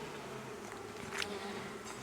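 Honeybees drone from a small nucleus hive, a continuous low buzzing hum at close range with one brief brighter swell of a bee passing near, no talking.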